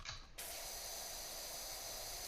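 A pressure washer in PowerWash Simulator 2 sprays in a broad, steady hiss that starts after a brief softer burst and holds constant and close, with no talking.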